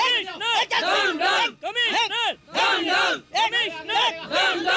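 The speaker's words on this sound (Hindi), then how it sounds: "पब्लिक भड़क गया यहाँ पे, आप जल्दी आइए, पूरा पब्लिक भड़का हुआ है" An angry crowd of the public shouting outside, many voices yelling together in loud rising-and-falling bursts with brief gaps between them, close and dense.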